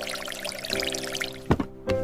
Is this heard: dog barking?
no